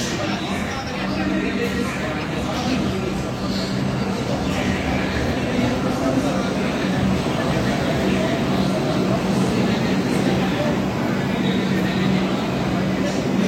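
A Kolkata Metro Blue Line train runs from Esplanade toward Kavi Subhash (New Garia), giving a loud, unbroken rumble with a murmur of passenger voices mixed in throughout.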